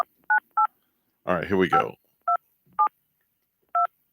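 A telephone keypad dials a call-in line, sending short evenly spaced dual-tone beeps, loud and close, with someone speaking briefly in the middle of the sequence.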